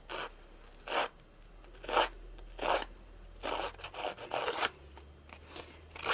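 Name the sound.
scissor blade scraping along cardstock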